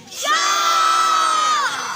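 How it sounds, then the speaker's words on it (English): Sea lion show audience at Blackpool Zoo shouting together as loudly as they can, a sustained loud crowd yell that rises sharply and holds for over a second before fading. "This time I need everybody shouting as loud as they can."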